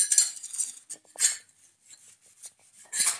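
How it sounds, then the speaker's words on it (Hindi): Dishes and steel utensils being washed by hand in a village home, with intermittent clinks, scrapes and rubbing in short bursts separated by brief pauses, close by. "यहाँ पे भी मेरे बीबी बर्तन धो रही है"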